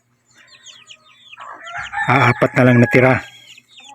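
Backyard chickens and small chicks cluck and peep close by in a rural yard, with a short burst of loud, rapid squawking partway through and a voice speaking briefly over the birds.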